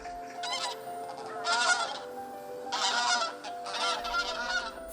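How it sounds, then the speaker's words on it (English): Migrating geese honk over a Korean farming village, several bursts of nasal calls from a flock, moderately loud with pauses between, no talk. "Flocks of migrating birds fly over Mojung village, a typical Korean farming village."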